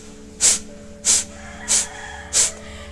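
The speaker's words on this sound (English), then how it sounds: "So it's a sharp, fast exhale breath through the nose," Four sharp, fast yoga exhales forced through the nose, hissy snort-like bursts at a steady rhythm, close to the mic with no talking.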